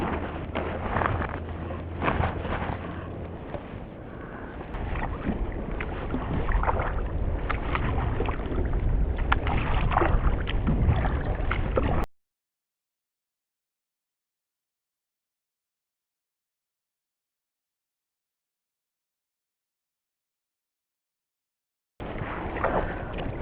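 A kayak-style boat with its trolling motor raised, paddled across open water, giving a steady wash of water and wind noise for about twelve seconds, then silence before the noise briefly returns.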